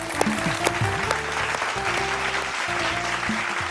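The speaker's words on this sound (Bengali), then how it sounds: "গুরপ্রীতের জন্য একটা জোরে হাততালি হয়ে যা" An audience on a Bengali TV family game show applauds a contestant: sustained clapping for several seconds, mixed with show music playing underneath.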